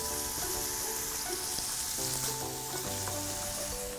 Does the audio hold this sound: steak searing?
yes